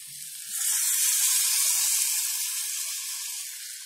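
Loud, steady sizzling hiss as liquid is poured into a hot pan while cooking pidi karanai masiyal, swelling after a brief moment and holding broad and close throughout.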